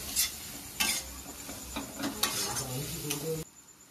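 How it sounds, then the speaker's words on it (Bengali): Ginger-garlic spice paste is stirred and fried in a pan for paneer kosa, with a spoon scraping and clinking against the metal over a soft sizzle. The strokes come in irregular bursts before the sound cuts off. "ভালো করে মশলাগুলোকে কষাবো।"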